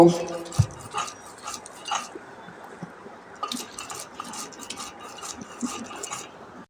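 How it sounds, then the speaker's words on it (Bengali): Bottle gourd peel and other bharta ingredients being ground together, a close, rough, rhythmic scraping and mashing that repeats in uneven bursts throughout. "আমি সবগুলো উপকরণ একসাথে ভালো করে বেটে নেব"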